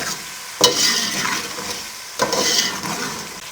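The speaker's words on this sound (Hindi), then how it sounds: "अब मीडियम फ्लेम पे 2 से 3 मिनट इसको फ्राई करेंगे।" Yogurt fries with pulao ingredients on a medium flame under a loud, close sizzle. Two distinct bursts of vigorous stirring scrape through the pan, with no one speaking.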